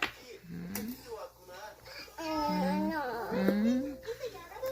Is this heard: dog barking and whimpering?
yes